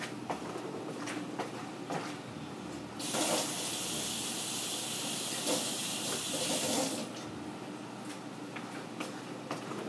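Tap water gushes loudly for a few seconds while a kitchen tool is rinsed under it, set between quieter stretches of clinking and handling sounds at a sink.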